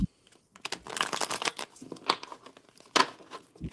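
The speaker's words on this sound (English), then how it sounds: "I got to shuffle 2 more times." Reading cards being shuffled by hand during a live psychic reading, a run of close papery riffles and flicks with brief pauses and a final burst, heard alone without talk.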